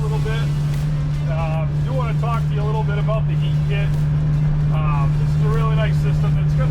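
A 2022 Can-Am Commander Max XT-P side-by-side fitted with Apache 360 LT tracks drives laps around a field, its engine giving a steady, loud, continuous drone throughout while someone talks over it.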